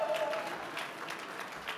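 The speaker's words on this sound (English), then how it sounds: "Another round of applause." Brief, moderately faint applause from an audience at a performing-arts benefit event, a soft wash of clapping with a hint of crowd murmur.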